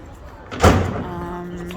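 A heavy shop door in a town centre swings and lands with one dull thud, followed by a short rumble, while a person talks nearby.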